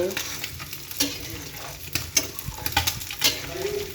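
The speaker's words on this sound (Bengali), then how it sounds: "আজ দেখুন একটু পেঁপের তরকারি রান্না করতেছি" Papaya curry cooks in a pan while a spoon stirs it, giving irregular scrapes and knocks over a constant frying sizzle, close by and without speech.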